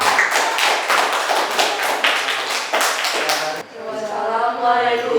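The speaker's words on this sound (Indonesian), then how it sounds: "Tepuk tangan." A class of students claps hands together at the close of an anti-bullying interactive game, dense brisk clapping for about three and a half seconds, then fading as voices and a sung or chanted tone take over.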